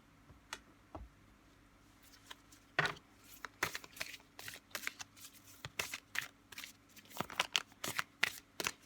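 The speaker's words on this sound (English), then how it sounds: "I'm just going to gather these up and pull 3 oracle cards to end the reading." Oracle cards being gathered and shuffled, a run of quick papery riffles and taps that starts sparse and grows denser, close and fairly quiet with no talking.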